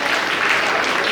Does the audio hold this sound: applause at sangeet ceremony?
yes